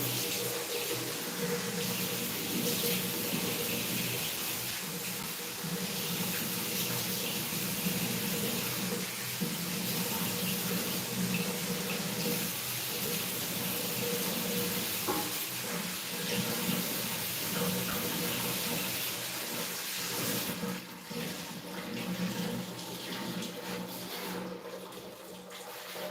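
Tap water runs steadily into a sink during face washing, a constant close splashing stream that barely changes and tapers slightly near the end, with no talk.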